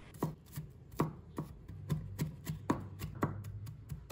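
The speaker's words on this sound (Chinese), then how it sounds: "把它切成片， 然后切成小粒。" A knife chops shallots into small pieces on a cutting board, giving about a dozen crisp thuds in an uneven but steady rhythm. The chopping is close and clear, with no talking.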